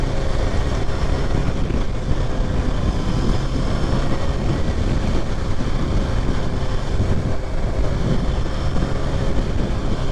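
A 2023 Kawasaki Ninja ZX6R cruising in fourth gear, heard as a loud, steady engine drone mixed with heavy rushing wind noise, even and continuous with no talking.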